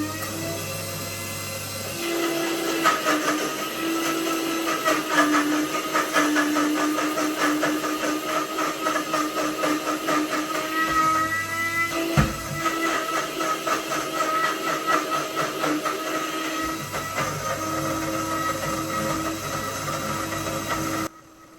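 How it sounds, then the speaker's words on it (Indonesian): Kitchen blender grinding ginger, turmeric, shallots and chili for rendang, a loud steady motor whir with a dense gritty buzz running continuously for about twenty seconds. "Kita blender langsung."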